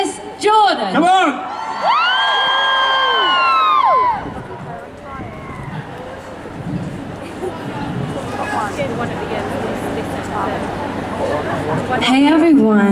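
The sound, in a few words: crowd cheering at Regent Street Christmas lights switch-on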